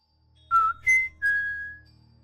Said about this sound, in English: The whistle came again, from somewhere ahead and to my right.